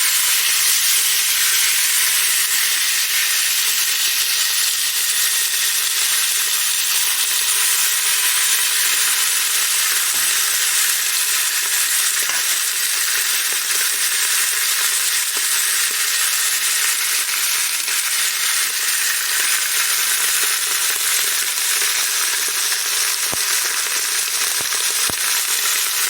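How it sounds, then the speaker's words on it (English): Steady, loud sizzling hiss of steak frying in butter in a hot pan, continuous throughout with a few small pops. "Good old-fashioned sizzle sizzle."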